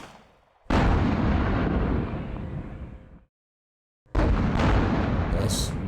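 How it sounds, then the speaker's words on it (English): Heavy gun fire in the war video game Squad Battles: a loud, booming blast with a long roaring tail, a short silence, then a second heavy burst. "A heavy gun."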